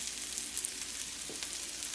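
Onions sautéing and caramelizing in a pan for an onion jam sauce, giving a steady close sizzle and crackle of frying with small bursts and no talking.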